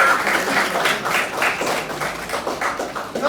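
A small audience at a college talk in Karkala claps in a loose, uneven rhythm for a few seconds, fairly close and without talking over it.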